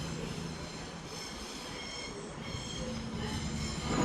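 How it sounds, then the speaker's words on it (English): Class 220 unit 220-031 pulls away from Manchester Piccadilly bound for Bournemouth, a steady rolling rumble with faint wheel squeal that swells slightly toward the end, heard alone. "That's 220-031 reeling off to Bournemouth"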